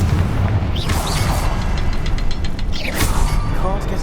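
Confringo spell explosion from Hogwarts Legacy, a fiery burst with booming low rumble and crackling debris spread across the clip over continuous game ambience, with a second blast surge near the end.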